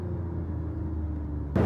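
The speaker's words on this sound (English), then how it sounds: "I have the moonroof open right now. That's why you hear a little bit of sound." Steady low road rumble and wind noise through the open moonroof of a moving Toyota Avalon TRD sedan, a constant hum with a brief louder rush at the end, no talking.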